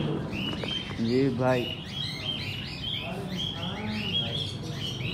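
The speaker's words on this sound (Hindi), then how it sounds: "मैं आपको तोते दिखाता हूँ" Parrots in a crowded bird shop chirp and tweet in quick bursts throughout, fairly close, while someone speaks briefly over them.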